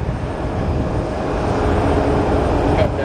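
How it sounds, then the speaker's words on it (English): An American Airlines Boeing 737 pushes back at Columbus Glenn airport, its engines producing a loud, steady, broadband roar that swells slightly toward the end. "American 737 pushing back."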